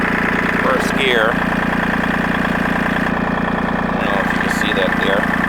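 A tractor engine runs steadily in first gear on land being cleared, a constant mid-pitched drone with some knocking vibration throughout, while a person talks over it at points.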